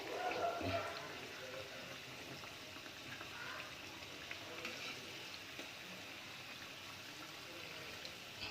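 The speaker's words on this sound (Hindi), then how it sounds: "इनमें अच्छा ब्राउन कलर आने तक आप इनको तलें" Mawa gujiya frying in hot oil in a home kitchen pan, a steady soft sizzle and bubbling that continues throughout, with a slightly louder burst at the start.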